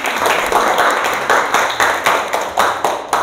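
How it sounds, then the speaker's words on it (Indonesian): A class of children claps together during a school science presentation, a quick run of loud, fairly even claps in a steady rhythm close by, with no talking. "Ya, tepuk tangan."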